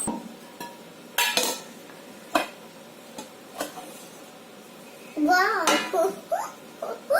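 Cake pan and utensils clinking as a chocolate sponge cake is loosened around its sides and lifted onto a dish: scattered sharp metallic taps and scrapes, close, with a brief child-like vocal sound near the end.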